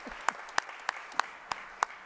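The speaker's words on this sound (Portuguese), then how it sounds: "Aplausos, gente. Vamos bater palma." Six sharp, evenly spaced claps ring out at a formal ceremony honoring military police officers. They sound like a single nearby person clapping slowly against a quiet room.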